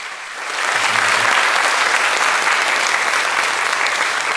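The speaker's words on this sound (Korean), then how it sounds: "우리 박수로 한번 올려드리도록 하겠습니다" A church congregation applauds during a Sunday morning worship service, with steady, dense clapping that swells after a brief start and holds at full strength without any talking.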